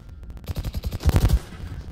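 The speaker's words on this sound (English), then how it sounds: "he's shooting at me" Rapid automatic gunfire crackles in a shooter video game, a tight burst of a dozen or so close shots with a brief heavier cluster near the end.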